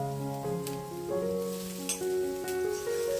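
Sliced green chilli sizzles in a pan of lentil curry (parippu curry), a steady broadband hiss of frying under a background of tonal music, with brief bursts of crackle and no talking.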